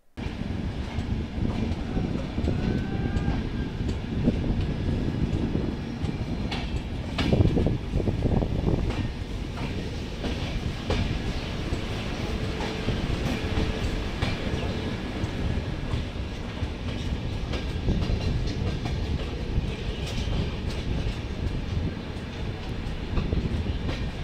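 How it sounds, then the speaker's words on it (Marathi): The Saurashtra Mail passenger train departs Kanalus Junction, rumbling steadily with rhythmic clickety-clack of wheels over rail joints, continuous and fairly loud, with no voices. "1 मिनिटाच्या हॉल्टनंतर ही ट्रेन कनलस जंक्शनवरून डिपार्ट झालेली आहे"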